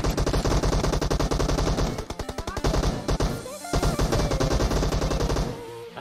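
Rapid automatic gunfire from a shooting video game rattles loudly in dense bursts, thins into sparser shots for a moment midway, then resumes at full intensity before trailing off.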